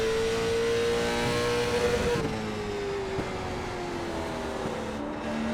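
A Late Model Stock race car engine at Martinsville in the iRacing video game drones loud and close, pitch gliding steadily as it holds revs, then dipping briefly and climbing again through a corner, with faint tire noise beneath.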